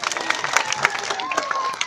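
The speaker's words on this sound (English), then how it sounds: "give him a little round of applause" Spectators at a sea lion show give a short round of applause mixed with cheering and crowd noise, with a thin whistle-like tone running through the clapping.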